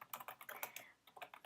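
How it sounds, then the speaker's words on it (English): Fingers tap quickly on a computer keyboard in irregular bursts of crisp clicks, fairly quiet and close, with a brief pause midway and no voices. "You might hear me typing."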